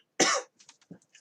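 A single loud, harsh cough from a person reading aloud, followed by quiet murmured sounds and faint breaths.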